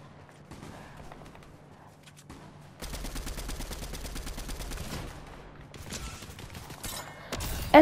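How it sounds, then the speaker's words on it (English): Rapid bursts of video-game gunfire crackle for several seconds, starting quiet and sparse, then turning dense and steady before fading into scattered shots and a sharp final crack. "Now someone is shooting at me."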